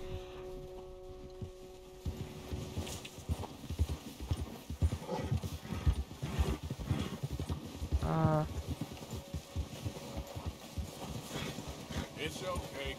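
Horse hooves galloping in the Red Dead Redemption 2 video game, a dense run of clip-clop beats that lasts through most of the stretch, with a brief whinny midway and game background sound underneath.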